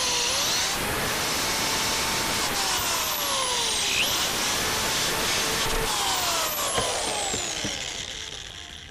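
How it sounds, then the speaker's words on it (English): A power drill whines steadily, its pitch sliding up and down as it bores pilot holes into lumber, with faint ratcheting clicks and a trailing spin-down at the end. "Drill the pilot holes."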